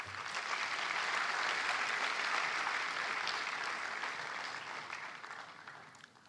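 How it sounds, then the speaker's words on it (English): An audience applauds a keynote speaker at a college conference, a steady, dense round of clapping that slowly fades toward the end. "Let's have a big round of applause for."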